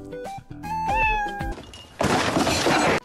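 A voice imitates a cat, giving a drawn-out, high, wavering meow close up. A second of broadband noise follows.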